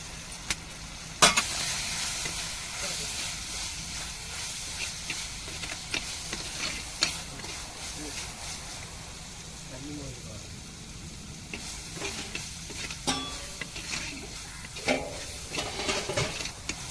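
Chili powder and turmeric sizzle in a pan while a utensil stirs and scrapes intermittently, with occasional sharp clinks over a steady frying hiss.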